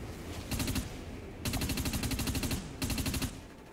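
Gunfire in the PS3 shooter Dust 514 comes as three loud, rapid automatic bursts with short gaps between them, and no talk over it.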